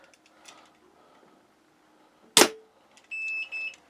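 A single sharp crossbow shot with a twisted string, a loud snapping crack in a quiet setting, followed by a couple of short electronic beeps.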